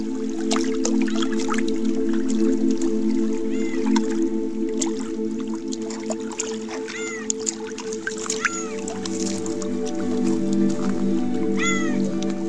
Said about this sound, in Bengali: দেখুন আওয়াজে একদিকে কোকিল লাগছে, আর একদিকে জলের কলকলের আওয়াজ